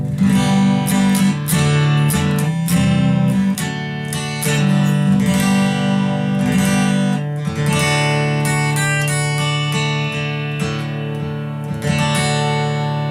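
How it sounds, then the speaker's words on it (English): A Line 6 Variax JTV-59 electric guitar emulating a 1959 Martin D28 acoustic, strummed with a full, ringing acoustic tone, steady chords and busy picking played up close, with no voices. "the guitar is emulating a 1959 Martin D28 6-string"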